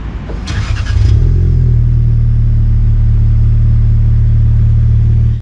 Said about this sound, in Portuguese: Ele faz uma ressonância no escapamento ali, bem legal, que eu vou deixar agora um barulhinho de ronco ali para vocês verem.